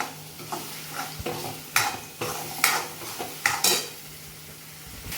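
Ginger, garlic and chili paste goes into a hot pan with a soft sizzle, broken by several sharp spoon scrapes and clinks against the metal, fairly close, with no talking.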